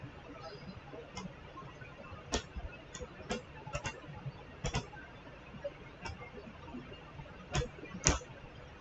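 Computer mouse clicks while tracing a shape with a pen tool, about a dozen sharp, quiet clicks spaced irregularly over a faint background hiss, close and isolated.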